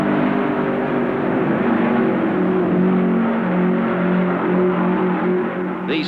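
Race car engines roar at the 1967 Indianapolis 500, a loud sustained high-speed drone with steady whining tones that shift slightly in pitch as cars run past, no voices heard.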